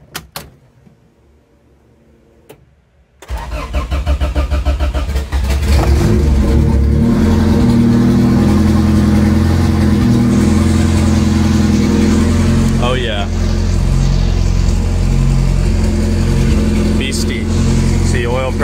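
An Acura Integra track car engine starts after a few seconds of near silence, then runs loud and steady with revving swells and idle stretches, close to the microphone.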